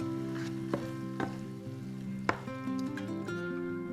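Meat seasoned with paprika, Italian seasoning, pepper and salt sizzles steadily in a pan for low-carb stuffed peppers, with a few sharp clinks and scrapes of stirring over the constant frying hiss.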